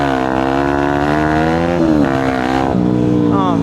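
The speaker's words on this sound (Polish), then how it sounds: "pokażę wam, jak wygląda power wheelie" A motorcycle engine revs hard during a power wheelie, a loud close sustained roar climbing in pitch, dipping briefly at a gear change and then rising again.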